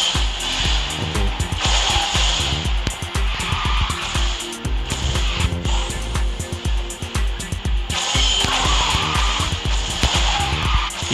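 Car drifting in the Garena Speed Drifters racing video game, with steady engine whine and repeated tire squeal, loud and continuous over game music with a rhythmic beat.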